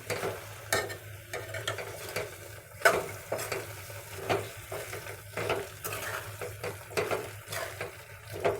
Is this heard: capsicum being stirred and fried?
yes